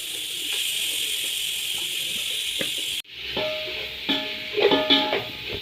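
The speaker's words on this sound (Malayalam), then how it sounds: "ഇതിലേക്ക് കുറച്ച് വെള്ളം ഒഴിച്ച് കൊടുക്കുക." Water is poured into a pot of chicken cooking with turmeric for chicken tapioca biriyani, a steady hissing sizzle that abruptly shifts to bubbling, spattering sounds with a few sharp clinks near the end.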